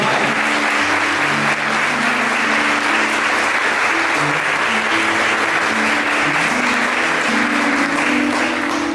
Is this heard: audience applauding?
yes